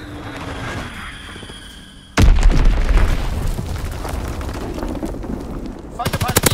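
A fighter jet makes a strafing run in a military shooter video game at a battleship map: a sudden heavy burst of booming gunfire and explosions that rolls on for seconds, followed by rapid crackling shots, with a game voice under the din.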